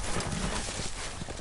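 Steady rhythmic clip-clop of horse hooves trotting over a dense, noisy background in a Game of Thrones video game.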